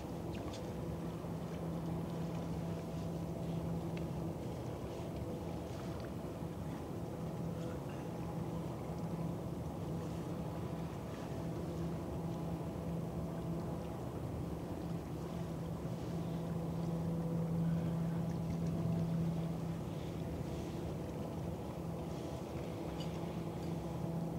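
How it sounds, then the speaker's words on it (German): A tugboat reversing on a river gives a steady low engine drone with a constant hum, unchanging for the whole stretch, with faint wind and no voices. "Katrin, der Schlepper fährt rückwärts"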